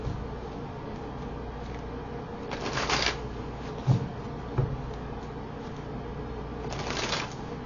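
Tarot cards are shuffled up close in a soft continuous riffling patter, swelling into two louder bursts of flicking cards and punctuated by a couple of light taps, with no voices.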